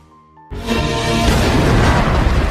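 After a quiet half-second, a deep bomb explosion bursts in and rumbles on as a loud, sustained roar.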